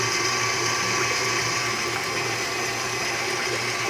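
Electric mixer whirring through cinnamon roll glaze with vanilla, a steady, loud motorized hum with a constant buzzing tone and no pauses.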